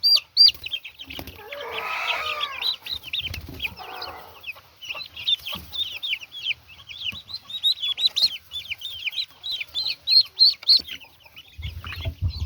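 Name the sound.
Rhode Island Red, Black Australorp and silkie chicks clucking in brooder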